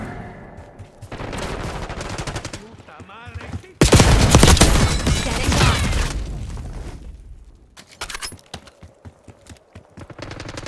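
Bursts of automatic gunfire and loud impacts from Call of Duty Black Ops 6 multiplayer, with a dense heavy volley in the middle, trailing into scattered shots and game voice lines between.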